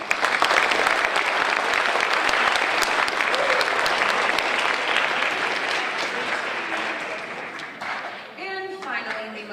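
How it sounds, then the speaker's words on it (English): An audience applauds a young band member at a middle school band concert and awards night, a dense, sustained round of clapping that gradually thins out, with faint voices and a few instrument notes near the end. "another round of applause for this young man."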